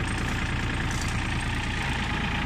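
An Iseki TF21F Japanese mini tractor engine running at a steady pace, a dense continuous low diesel drone with no change in pitch, close and loud throughout, no voices.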